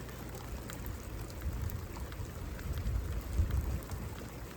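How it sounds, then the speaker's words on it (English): Steady rain falls outdoors during a rain and thunder weekend, a soft continuous patter with scattered drop hits. It stays even and fairly faint throughout, with no voices. "Rain right here."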